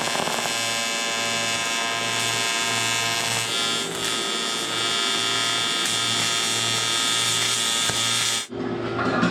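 Tack welding a homemade intake manifold for a Honda K24A2 engine swap into a Porsche 996 gives a steady, close electric buzz with a low hum that runs continuously and cuts off abruptly near the end.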